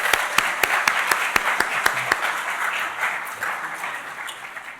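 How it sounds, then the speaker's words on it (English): A crowd applauding, loud sharp claps at first that thin out and fade toward the end. "let's give them a round of applause."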